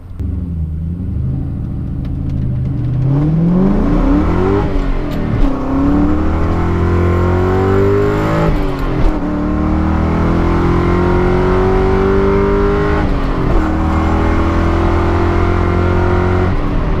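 A Ford Mustang Mach 1 with a shaker hood revs hard and accelerates, its loud engine rumble climbing in pitch through several gear pulls, close and continuous with no talk.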